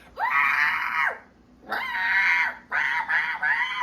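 A voice imitates a shrill, bird-like scream, giving three loud, sustained screeches in a row with short gaps between them, close up and with no other sound behind them.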